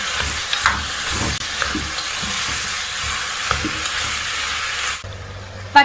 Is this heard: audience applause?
no